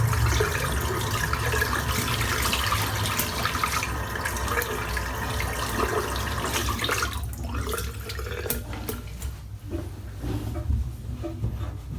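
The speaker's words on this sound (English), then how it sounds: "Just rinse the soap out." Running tap water splashes steadily as soap is rinsed out of a shaving brush, a continuous close gush for most of the stretch that thins out toward the end with a few sharper drips and knocks.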